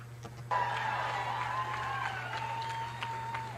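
A crowd claps and cheers at a post-election gubernatorial speech, and the applause starts suddenly and holds at a steady level. The whole sound is distant and faint, with a hum running underneath.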